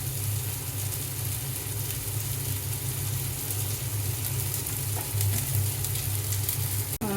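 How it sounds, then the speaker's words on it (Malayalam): Sunflower oil heating in a pan for chana masala, a steady dense sizzle and crackle running throughout with a low hum underneath, close and continuous. "ഇത് സൺഫ്ലവർ ഓയിൽ ഒഴിക്കുന്നു."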